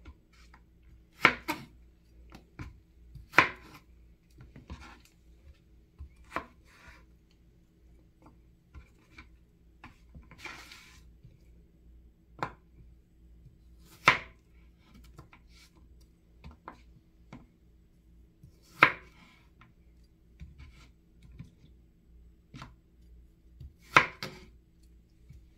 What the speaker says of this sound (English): We're just going to slice them.